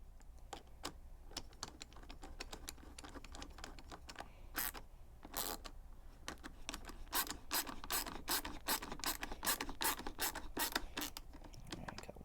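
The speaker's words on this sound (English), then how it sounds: "take your Allen key or your wrench and start lining up the 2 screws together and tightening them down" Screws on a Generac GP2200i/GP2500i inverter generator tightened with an Allen key or wrench during a propane and natural gas conversion: close, rapid ratcheting clicks, sparse at first, then a dense regular run of loud metallic ticks.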